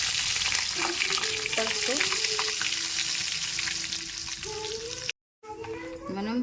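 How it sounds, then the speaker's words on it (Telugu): Cumin and curry leaves sizzle loudly in hot oil as a tempering for curd curry, with turmeric going in. The crackling is close and steady, and a voice speaks briefly over it. "పెరుగు చారు చేసుకొని పెట్టుకున్నాం కదా, ఇందులో ఇప్పుడు నేను తాలింపు వేసేసుకున్నా."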